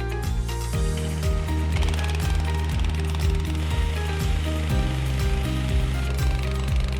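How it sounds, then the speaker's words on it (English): A Wagman GHP Revolution brush and diamond system scrubbing and grinding a concrete tilt wall, a steady loud mechanical drone with repeated rhythmic chattering pulses throughout, no talk. "The Wagman GHP Revolution Brush and Diamond System can make quick work of this."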